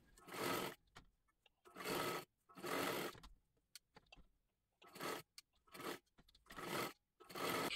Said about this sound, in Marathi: आता ह्याच्यावरती आपल्याला डबल शिलाई मारून घ्यायची आहे